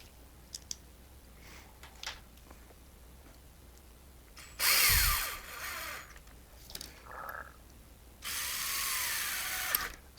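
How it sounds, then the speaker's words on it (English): A power drill whirs in two bursts while screws are driven during reassembly of a Walter 6141 D electric die grinder, with faint clicks and handling noises between the runs. "this drill's got lots of torque"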